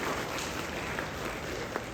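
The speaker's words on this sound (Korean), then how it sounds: "네, 큰 박수 부탁드립니다." A film festival audience at the Muju Sangol Film Festival guest talk claps steadily, a dense, even wash of many hands sustained throughout with no pauses.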